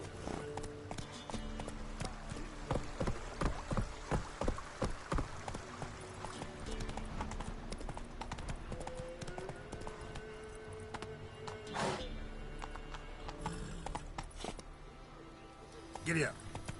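Hooves of Roach, the horse in The Witcher 3: Wild Hunt video game, clip-clopping at a gallop, with steady rhythmic beats under game music and a voice speaking.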